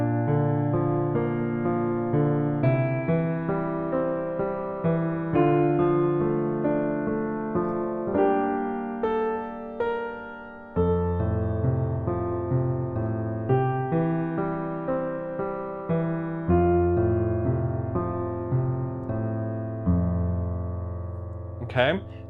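A piano plays the final line of a song alone, with sustained chords under a slow melody, its notes decaying steadily over about twenty seconds, close and clear.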